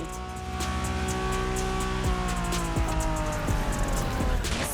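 A 1990s Honda NSX drives in The Crew Motorfest, its engine revving steadily and climbing through gears with sharp upshift dips and brief tire squeals, loud and close throughout with no talk.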